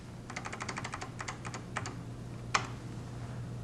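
Fingers typing a short string of letters on a computer keyboard, a quick burst of close, crisp keystrokes with brief pauses, ending in a single firmer press like an Enter key, over a steady low hum.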